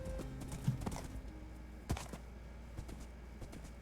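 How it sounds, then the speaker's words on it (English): Horse hooves clip-clop in the Minecraft video game, a few soft, scattered hoof knocks over a quiet, faint background with no talking. "take your horse for a spin, test him out"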